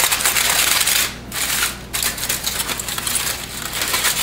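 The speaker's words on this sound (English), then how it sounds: "Then you're going to cut off the edges" Knife or cutter trimming the edges of apple pie dough around a pie dish, heard as a steady dense scraping and crinkling texture with two brief pauses, close and fairly loud.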